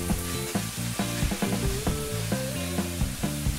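Tomatoes go into a pan of frying ground pork, a steady loud sizzle and hiss with rhythmic stirring scrapes and clinks of a utensil against the pan throughout.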